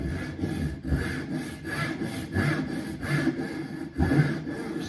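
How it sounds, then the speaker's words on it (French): A Japanese crosscut saw rasps through wood in steady back-and-forth strokes, roughly one per second, close and even with no talking. "Maintenant, je vais faire la même type de coupe, mais avec la scie à tronçonner."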